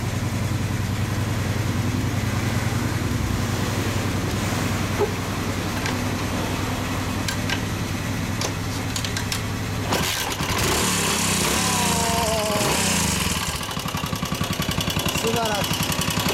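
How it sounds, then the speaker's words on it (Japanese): A 1984 Yamaha SR500 cafe racer single-cylinder motorcycle idling close by, a loud steady thumping throb, with people talking over it toward the end. "破壊エンジン聞かせてもらおうかな。"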